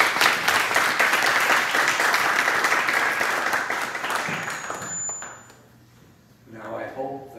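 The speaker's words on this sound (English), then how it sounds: "give Father Don a round of applause to introduce him" An audience applauds to welcome Father Don Goergen before his talk, a full round of clapping for several seconds that thins out and dies away, followed by a quiet pause and faint sounds.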